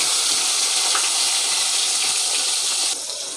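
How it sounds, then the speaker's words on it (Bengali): Fish frying in hot oil in a pot gives a steady, loud, dense hiss of sizzling that holds evenly, then drops slightly in level near the end, with no talking. "মাছটা আমি ভেজে নিচ্ছি"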